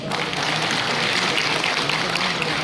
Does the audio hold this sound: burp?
no